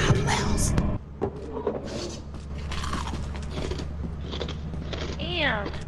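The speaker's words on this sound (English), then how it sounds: "What are you eating? Pita chips." Loud, close crunching of pita chips into a gaming headset microphone during online horror game play, wet bites and chewing over voices and game sounds.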